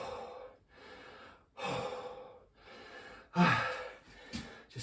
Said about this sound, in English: get your breath back